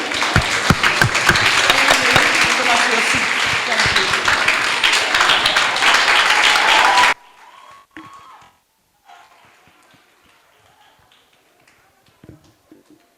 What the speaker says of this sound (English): a round of applause for these 6 distinguished ladies. Let's clap for them